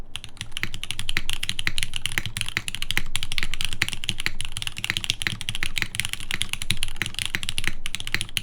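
Typing on a TGR x GAF 910 mechanical keyboard fitted with a magenta GMK spacebar, a steady run of close, clacky keystrokes with repeated deeper spacebar thocks throughout.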